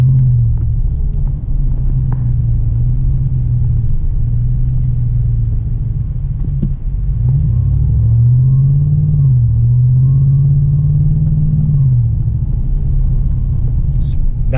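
Deep exhaust drone of a 2020 Chevy 2500 truck with a 6.6 gas engine and MBRP exhaust under light acceleration, a continuous low rumble that rises and falls in pitch while someone talks over it.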